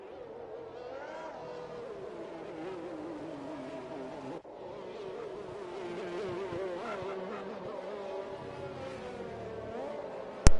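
Formula 1 race cars idle and rev on the starting grid of a Singapore circuit in an F1 video game, a steady layered engine drone that holds throughout, briefly dipping midway, with a sharp click at the very end.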